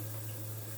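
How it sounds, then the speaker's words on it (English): Brief running water, like a tap pouring a little water onto a cheap sharpening block, a short steady splashy hiss with a low hum. "all you need to do is put a little bit of water on it"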